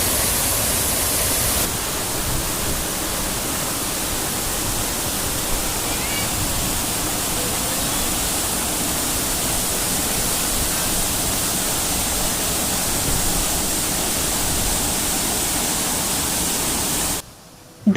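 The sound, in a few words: waterfall roaring in a forest near Dharampur, Dang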